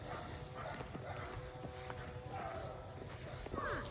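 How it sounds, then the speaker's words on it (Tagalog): Carabao (water buffalo) walking on a farm path, its hooves giving soft irregular clip-clop steps close by, with faint voices and rural background noise around. "Ito na guys, ang kalabaw."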